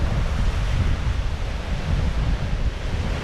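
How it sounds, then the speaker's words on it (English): Huge waves break in a squall at Cypress Lake during winter camping, a loud, continuous roar of surf mixed with heavy wind buffeting the microphone. "from the distance, huge waves are peaking"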